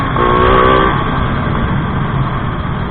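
Stock Honda RS150 motorcycle engine running smooth and quiet, a short rev with rising tone in the first second, then a steady low idle hum close by, no talk.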